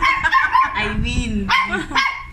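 A miniature poodle barks and yips close up in a few sharp, excited bursts, mixed with people talking and laughing nearby.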